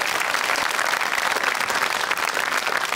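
A studio audience at a comedy show claps loudly and densely as a team is welcomed onto the stage, a sustained wall of applause throughout.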